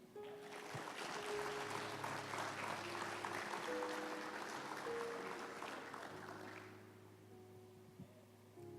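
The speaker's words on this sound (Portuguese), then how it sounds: "Pode aplaudir Jesus?" Applause from a church congregation during a sermon, a broad wash of clapping that swells through most of the stretch over sustained organ or keyboard tones, then fades as the music carries on alone.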